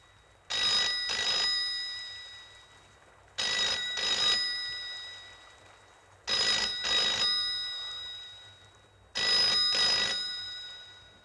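A telephone bell rings late at night in four evenly spaced double bursts, each loud and near, separated by short pauses of near silence.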